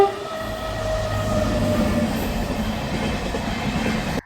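A train rolls past a railway level crossing, a sustained loud rumble of wheels and cars with a horn tone at the start, close and continuous until it cuts off.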